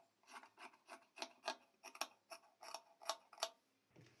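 Scissors trim blouse fabric to size in a quick series of about a dozen crisp snips and rasping cuts, close and fairly faint, with no speech.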